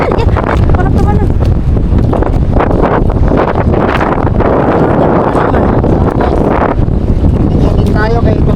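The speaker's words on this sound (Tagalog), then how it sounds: "Salamat na malakas ang hangin" Loud, steady wind buffeting the microphone, roaring continuously with gusty rumble, while a person talks over it.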